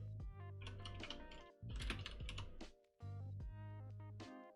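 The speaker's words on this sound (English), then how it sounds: "Oh, I am typing." Typing on a computer keyboard, quiet rapid key clicks in quick bursts with brief pauses, set under soft background music during a web coding session.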